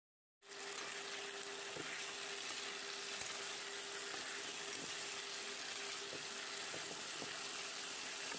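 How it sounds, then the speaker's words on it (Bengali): Taro pieces sizzle steadily in hot oil in a kadai, cooked down for a Bengali fish curry, with a continuous dense frying hiss and occasional stirring clinks throughout, no talking. "এবার আমি কচুটা দিয়ে ভালো করে কষিয়ে নেব কচুর সঙ্গে।"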